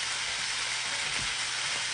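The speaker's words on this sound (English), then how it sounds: "I'm going to throw the onions in while that beef's cooking" Onions frying in a pot on top of searing beef for a stew, a dense, even hiss of sizzling fat that holds steady and close throughout, with no talking.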